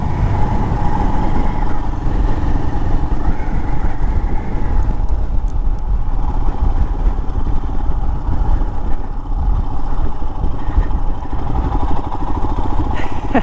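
Royal Enfield Himalayan (2022) motorcycle ridden over smooth dirt, a loud steady engine drone with road rumble and wind noise running continuously, with a faint voice now and then.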